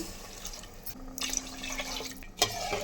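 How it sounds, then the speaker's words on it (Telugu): Water from a glass poured into a pot of raw rice for pumpkin biryani, a soft trickling splash running for about two seconds before a short clatter near the end. "2 గ్లాసులు వాటర్ వేసుకుంటున్నాను."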